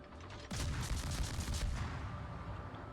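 Naval warship guns firing in a destroyer battle video game, a sudden loud burst followed by a dense run of rapid booming shots that keeps rumbling on.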